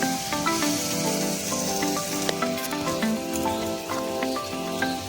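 Taro greens cooking in a pan just used for frying crabs produce a steady, moderately loud sizzle with small crackles and occasional light clinks throughout; no speech.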